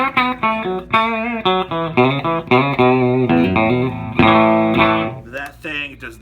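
Fender Telecaster electric guitar played through effects, sounding a clean, hum-free tone with distortion, chorus and reverb, strummed in a run of rhythmic chords that ring out loud and close.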